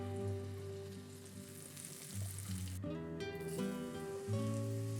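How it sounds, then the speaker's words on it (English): Eggs and mushrooms fry in a pan inside a small cabin, giving off a faint steady sizzle and crackle throughout, with tonal background hum layered over it. "we make do with toasting bread in a frying pan and scrambling eggs in a saucepan"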